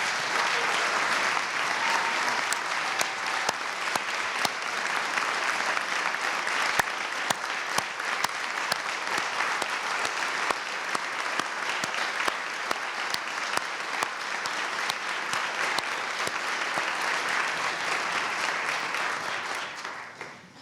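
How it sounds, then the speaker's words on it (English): An audience at a state-of-the-commonwealth address gives a long, steady round of applause, dense even clapping holding at a constant level for about twenty seconds before tapering off at the end. "Please give them a round of applause."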